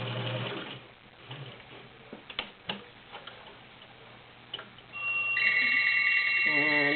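A vintage White 1466 heavy-duty 1.3-amp sewing machine stitching a smooth zigzag makes a steady, close mechanical whir with rhythmic ticking at the start, scattered clicks in the middle, and a loud, even run again at the end.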